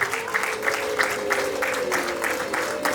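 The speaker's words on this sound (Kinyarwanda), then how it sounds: "twongeye dukora amashyi n'impundu na televiziyo bifata" Wedding guests clap in a steady, fairly loud burst with high ululation-like cries rising over it in regular pulses, no talking.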